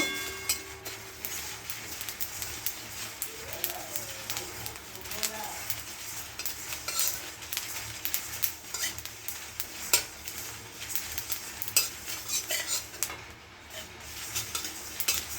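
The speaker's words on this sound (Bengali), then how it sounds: "এখন ওই ভাজা খোলাতে একটু পাঁচফোড়ন আর শুকনো লঙ্কা ভেজে নেব" Panch phoron spices and dried red chilies fry in a pan with a soft sizzle, while a utensil stirs and scrapes against the metal repeatedly.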